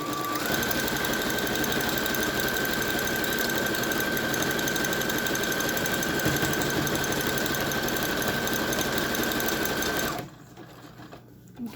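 A serger sews a stitch along the bottom of a reusable grocery bag, running as a continuous, even mechanical whir with a steady high tone for about ten seconds, then it stops abruptly and leaves near silence.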